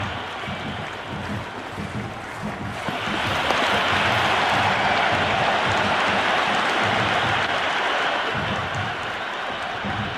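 A large cricket stadium crowd at an India versus Pakistan T20 match roars and applauds at a distance, the swelling wash of cheering growing louder after a few seconds and holding steady.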